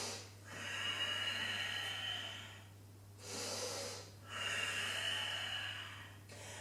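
Slow, deep breaths during a Pilates exercise, two long airy exhales with a short pause between, close and clear against a low steady hum.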